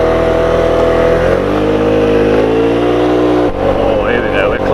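A rented CVT scooter engine revs steadily while climbing a winding mountain road in Andalusia, a loud continuous drone that rises and shifts in pitch, with wind rush throughout.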